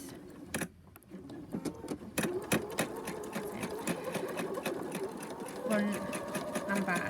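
A sewing machine runs fast for free motion embroidery, making a steady whirring stitch rattle with a few brief pauses. A voice talks over it now and then.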